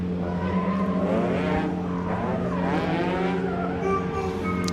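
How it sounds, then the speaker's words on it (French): A race car drifting at a competition, still sliding sideways through a chicane past the finish line: loud, continuous engine roar blended with screeching tire skid, steady and close throughout with no talking. "il était encore en glisse après la ligne d'arrivée sur la chicane"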